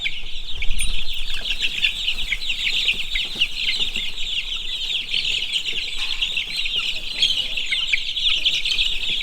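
Young chicks with growing wing feathers chirp and cluck steadily in a shop, a dense, continuous chorus of high peeps that stays fairly close with no talking.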